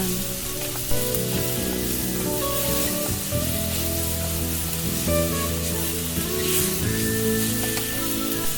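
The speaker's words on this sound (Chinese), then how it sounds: "再把西兰花拨到一边，然后倒入罐头鱼，把它炒香。" Canned fish fries alongside broccoli in a wok, giving a loud, continuous sizzle with crackling spatters and occasional stirring scrapes.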